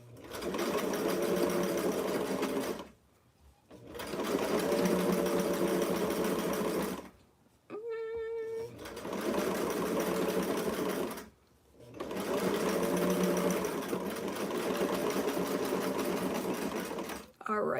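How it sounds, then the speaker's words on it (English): A sewing machine stitches a western blouse in bursts of several seconds each, separated by short pauses, with one brief mechanical whir between runs. The motor is loud and close, and there is no speech. "Let's keep sewing."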